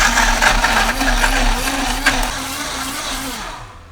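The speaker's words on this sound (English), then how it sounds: "Let's blend the ingredients." Blender whirring steadily as it purees spinach, mango and seeds into a smoothie, a loud continuous motor hum with a slight wavering pitch that winds down near the end.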